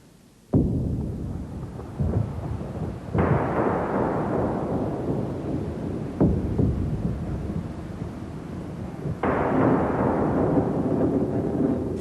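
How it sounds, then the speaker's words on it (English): Thunder in a storm: three loud, close cracks, each one rolling into a long rumble that fades before the next strike. "Thunder cracking, storm clouds gathering."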